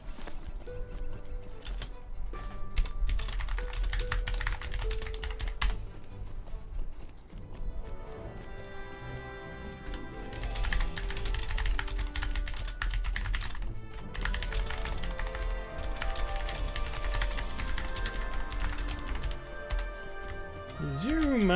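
A computer keyboard being typed on during a Lord of the Rings Online game session, with rapid clicky keystrokes over game music and sound effects, and a person talking at times.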